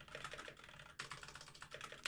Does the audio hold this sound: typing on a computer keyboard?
yes